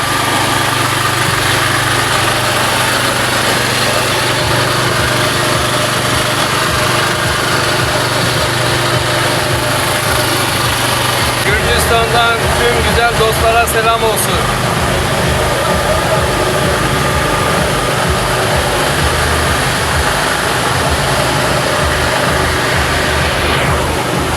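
A steady boat engine drone runs throughout a boat tour in Georgia, a continuous engine hum with a brief rise in clatter midway, no voices.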